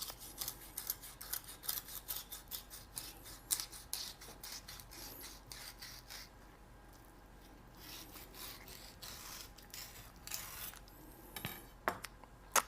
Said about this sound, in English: I'm just going to cut along the spine.